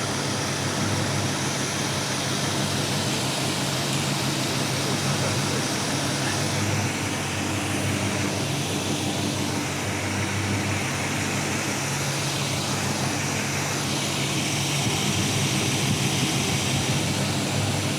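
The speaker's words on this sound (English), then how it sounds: "The motor sounds really good." A 1979 Chevy square body truck engine idles right after its first start following restoration, a loud steady roar that holds for the whole stretch with little change.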